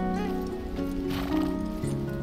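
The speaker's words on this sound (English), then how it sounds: "and then just walk with your horse." A horse walks in Red Dead Redemption 2. Its hoof steps sound under a steady wash of game music and ambience, with no clear pauses.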